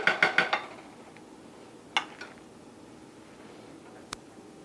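A knife taps and scrapes against a plate while meatloaf is sliced in a home kitchen: a quick burst of four or five clinks, then a couple of isolated knocks and a lone click near the end.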